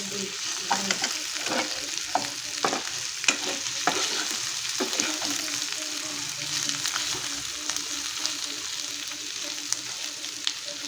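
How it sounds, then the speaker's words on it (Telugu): Chicken fry curry cooking in a pan, with a steady broad sizzle and frequent close scraping and stirring clicks throughout, no talking. "కూర అయితే ఉడుగుతానే ఉంది"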